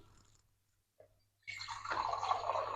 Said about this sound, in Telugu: వాటర్ వేయకుండానే మూత పెట్టేస్తున్నాను వాటర్ వేసుకోవాలి కదా